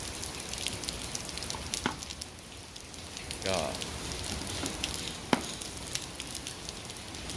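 Steady rain patters and hisses on a surface, a dense crackling texture with occasional louder drips, faint voices beneath, during a horse's bath.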